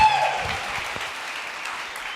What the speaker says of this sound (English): That was very calm applause